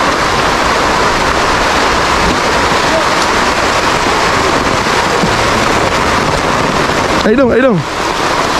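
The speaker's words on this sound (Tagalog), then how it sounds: "At lalo pang bumuhos ang ulan" Dense, steady hiss of heavy rain pours down close and loud throughout, with a short spoken exclamation near the end.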